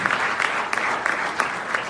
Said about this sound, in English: let's just give one more big round of applause for all the awards and people who made this day possible